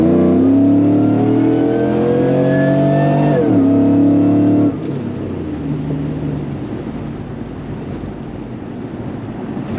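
A supercharged 6.2-liter 2008 Chevrolet Tahoe accelerates at full throttle, its engine roaring loud and rising steadily in pitch for several seconds before a shift drops the tone and the drone carries on under road and wind noise.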